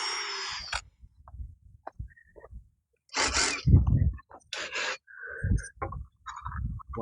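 A power drill drives screws into timber while building at an allotment. It gives short whirring bursts, close by, mixed with outdoor background sounds and brief pauses between screws.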